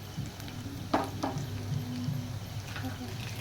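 Spices being stirred in a frying pan for paneer kabuli chana: soft scraping and a low sizzle with a couple of brief utensil clinks, steady and close, with no talk over it.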